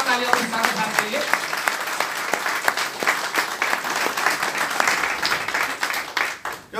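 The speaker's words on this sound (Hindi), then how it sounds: "जोरदार तालियां ओपी सागर साहब के लिए" Audience applause at a federation's birthday celebration event fills the space with dense, sustained clapping from a large crowd, steady and loud throughout with slight swells, fading a little near the end.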